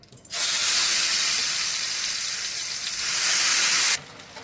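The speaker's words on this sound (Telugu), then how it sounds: "ఇప్పుడు మనం రొట్టె వేసేసుకుందాం." Roti dough dropped into hot oil on a non-stick pan sizzles loudly and steadily for about four seconds, a close, bright hiss that starts and stops abruptly.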